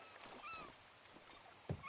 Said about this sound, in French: Et déjà, toutes les mouettes, là, il y a forcément un truc avec tous ces...